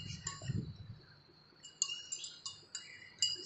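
A spoon stirs sugar into a glass of water, making a series of light, irregular clinks against the glass that ring faintly in a quiet room.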